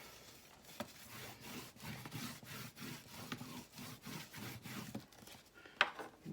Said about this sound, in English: And then we're going to burnish that down.